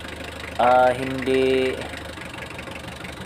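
A Mitsubishi 4D56 diesel engine idles roughly with a shaking, misfiring condition, giving a steady low mechanical hum up close. Someone speaks briefly over it.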